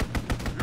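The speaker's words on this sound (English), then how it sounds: "Strafing run inbound!" Strafing run gunfire from aircraft in Call of Duty WWII, heard as about four rapid, evenly spaced loud bursts over a brief stretch, with a faint rising tone at the end.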